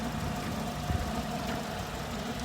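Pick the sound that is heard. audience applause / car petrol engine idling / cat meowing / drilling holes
car petrol engine idling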